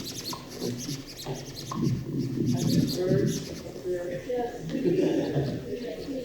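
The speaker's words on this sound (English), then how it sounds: "Yeah, I do hear birds." Birds, including pigeons or doves, coo and chirp indoors during a town meeting in Greensboro, Vermont, soft repeated calls mixed under ongoing talk and room murmur.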